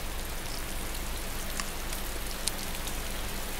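Steady rainfall in the video game DayZ, an even wash of patter on surfaces with scattered individual drop ticks, continuous and without voices.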